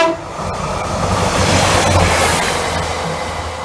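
A Class 142 Pacer diesel train rumbles past at Apperley Bridge, a loud, rushing rail roar that swells and then slowly fades, heard alone without talking.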